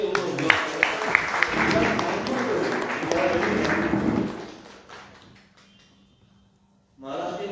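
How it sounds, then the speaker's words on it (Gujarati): An audience at a public talk on books and libraries breaks into applause, a loud burst of clapping over a voice that fades out into near silence, then sound returns just before the end. "ખૂબ ખૂબ આપણે તાળીઓથી"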